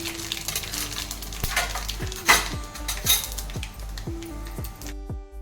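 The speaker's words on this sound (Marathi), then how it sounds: "आता आपल्याला फोडणीसाठी राई टाकायची आहे एक चमचा राई टाकलेला आहे आणि एक चमचा जिरं" Mustard seeds and cumin tempering in hot oil for crispy thin poha chivda, a continuous sizzle and crackle with repeated metallic clinks of a spoon against the pan, close and steady with no talking.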